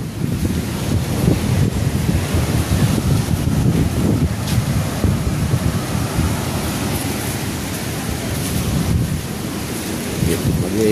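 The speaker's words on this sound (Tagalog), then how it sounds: "malakas ang hangin, malaki pa ang alon" Strong wind buffets the microphone while large waves surge and crash continuously nearby, a dense, steady roar throughout.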